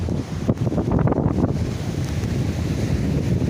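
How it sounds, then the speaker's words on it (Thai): Gusty sea wind roars loudly across the microphone at a roadside shelter by the shore during light rain, a continuous rush with surf mixed in and brief swells of stronger gusts. "ลมพัดก็ค่อนข้างแรงนะครับ"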